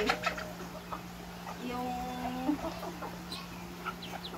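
Native chickens cluck softly at a distance outdoors, with short scattered calls over a low steady hum, and someone speaks briefly in between.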